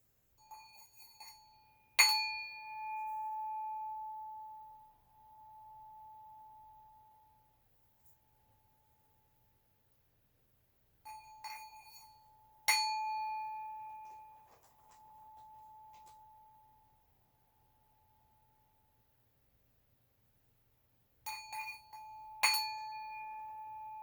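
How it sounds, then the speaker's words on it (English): Three separate strikes on a singing bowl, each a bright metallic ping followed by a long, clear ringing tone that slowly fades into near silence before the next. "So we are going to do the singing bowl for number PR number 177."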